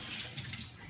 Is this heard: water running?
yes